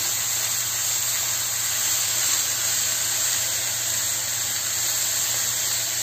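Coriander sizzles in a pan on the fire after onions while cooking Egyptian stuffed cabbage. A loud, steady, continuous hiss of frying with no pauses and no voices.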